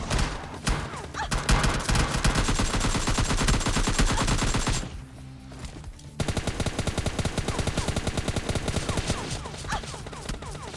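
Rapid bursts of automatic gunfire fill a battle royale video game firefight, with dense repeated shots, a brief lull, then steady rhythmic firing again.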